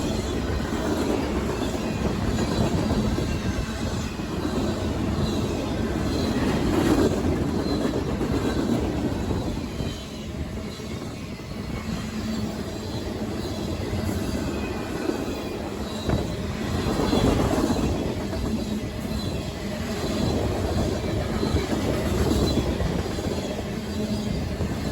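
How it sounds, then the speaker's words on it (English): CSX M566, a freight manifest train, rolls past near Berea, Ohio, with a loud continuous rumble, rhythmic clickety-clack of wheels over rail joints and brief wheel squeals. "Our first train of the day we captured was CSX M566, a daily manifest out of Bar Yard in Chicago"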